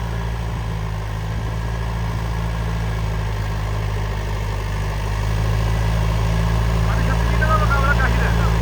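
A Preet 6049 tractor engine runs loud and close, a steady low diesel drone that swells slightly in intensity about halfway through, with faint higher noises near the end.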